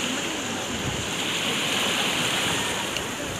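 Sea waves wash onto a beach in Odessa, a steady, fairly quiet broadband rush with no distinct individual breakers, running unbroken through the whole stretch.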